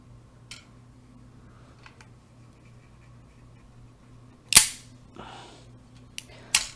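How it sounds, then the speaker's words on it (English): A K/L frame revolver fitted with an Apex hammer and spring kit is dry-fired while a trigger pull gauge tests it. A few sharp, close mechanical clicks stand out, spaced apart against a quiet background. "And now we're going to test it with my trigger pull gauge."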